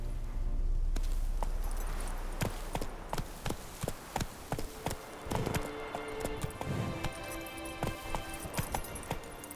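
The horse Roach galloping in the video game The Witcher, a fast run of sharp, close hoofbeats that starts after a low rumble and continues steadily, with some splashing and ambient game sounds layered underneath.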